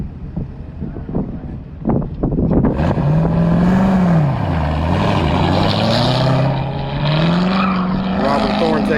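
A Corvette C7 race car accelerates away at an autocross event on the Grissom AFB course, its engine note rising and falling through gear changes, loud and close amid wind noise, with a voice talking over it.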